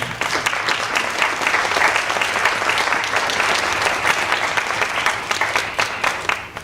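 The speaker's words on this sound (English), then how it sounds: "let's give them a big round of applause" Steady applause from an audience at a candle lighting ceremony, dense clapping that stays loud and even throughout without speech.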